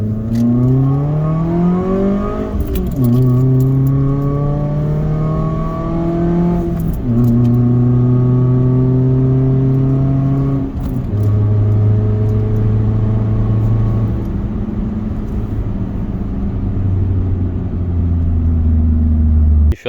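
A Suzuki Swift engine revs loudly through a throaty sports-muffler exhaust, climbing through several gear changes in a steady, droning roar.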